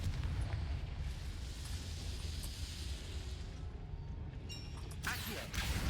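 A Confringo blasting spell explodes in Hogwarts Legacy, a loud sustained rumbling roar that runs throughout and ends in a sharper crackling burst.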